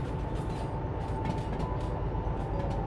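A locomotive in the train simulator Derail Valley rumbles steadily with a dense, even low drone and a faint mechanical hum, continuous and close throughout.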